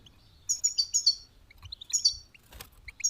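Goldfinch chicks give rapid high chirps in short clustered bursts, close and fairly clear against a quiet background.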